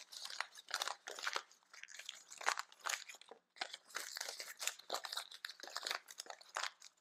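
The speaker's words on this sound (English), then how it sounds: "And now I'm gonna kind of crumple them up." Book pages crumpled by hand for small Christmas tree crafts give a close, quiet series of dry crinkling crunches in irregular bursts, with short pauses between and no talking.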